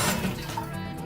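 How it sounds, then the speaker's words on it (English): A HOROW X70 toilet flushes with a rush of running, swirling water, fairly soft and close, steady throughout the short stretch without any talking. "from here, we can flush our toilet"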